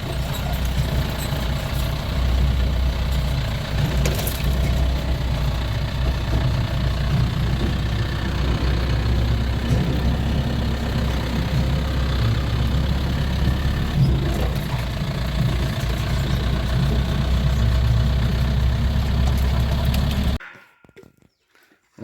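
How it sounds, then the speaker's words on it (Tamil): Three diesel engines drive water pumps outdoors, a loud, steady low rumble and throb that carries on unbroken, then cuts to near silence at the very end. "3 டீசல் இன்ஜின் ஓடிட்டு இருக்காருங்க."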